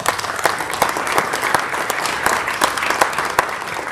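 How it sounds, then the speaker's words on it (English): Audience at a freshman academic ceremony applauding students, loud, close and sustained dense clapping with a few sharp individual claps standing out over the whole stretch. "Let's give these students a round of applause."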